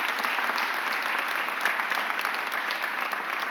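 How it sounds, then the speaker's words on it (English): Continuous applause from an audience at a mayor's press conference, a bright, even patter of many hands clapping that holds steady from start to finish. "Give Charlie a round of applause."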